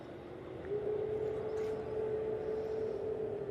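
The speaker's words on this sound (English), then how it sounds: "Oh wowzers, that's a sharp turn for the A380." An Airbus A380 taxiing and making a sharp turn at Manchester Airport, heard from a distance as a steady engine drone with a faint whine that rises and holds, with no talk.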